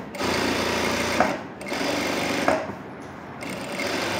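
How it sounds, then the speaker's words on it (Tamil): Sewing machine running steadily as it stitches along the edge of an umbrella frock, close and continuous in three runs broken by short pauses, each pause marked by a small click. "ஓரத்தில் நம்ம எஜ்ஜு தையல் போடுவோம்ல"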